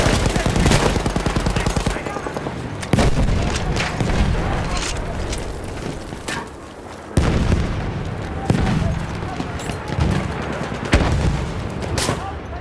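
Rapid machine gun fire in Battlefield 1 on a foggy La Somme map, loud bursts of rattling shots broken by heavy booms and short pauses, repeated several times.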